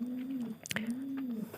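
A pigeon coos softly and nearby, two drawn-out low coos separated by a brief rustle and click, with faint background noise.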